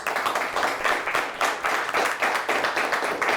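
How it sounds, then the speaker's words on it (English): Studio audience at a televised high school quiz show applauds the teams, a steady, even wash of clapping throughout. "Let's give all of them a nice round of applause."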